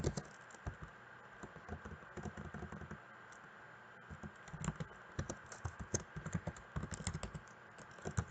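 Irregular clusters of close, crisp computer keyboard keystrokes rattle steadily during photo editing work, with short pauses between bursts and no voices.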